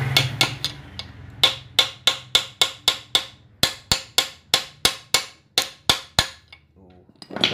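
A chisel struck repeatedly with a hammer to drive out a motorcycle fork bearing race, giving a close, loud series of sharp metallic blows at an even, steady pace.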